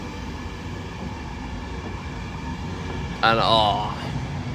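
An Intercity 91 locomotive in Swallow livery, 91 119, at the rear of a train on the East Coast Main Line through Grantham station, passing as a steady rumble, with a brief wheel squeal near the end and a voice talking over it.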